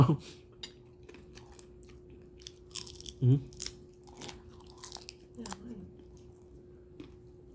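Crunchy bites of chicken wings being chewed close up, with a few sharp crunches and softer chewing sounds spread across a quiet background.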